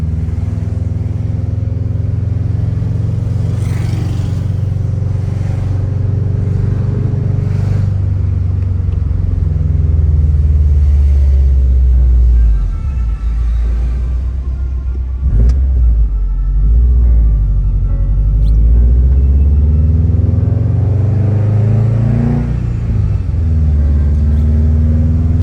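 A 2007 Subaru WRX STI fitted with new spark plugs, motor mounts and shifter bushings drives along, its engine giving a loud, steady low rumble that swells and eases slightly, close up, with no talking.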